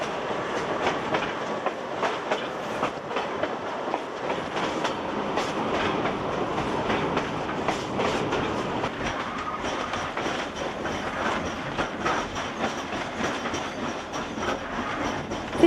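A train runs downhill on the Lima to Huancayo line in Peru with a continuous rumbling roar and a dense, steady clatter of wheels over the rails for a long stretch.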